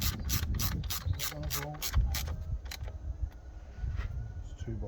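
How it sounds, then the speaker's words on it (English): A ratchet clicks in rapid bursts while screws are driven into the intake manifold of an Audi A3, close and sharp, followed by slower individual clicks and faint metallic handling. "Finally pop these two screws in the manifold."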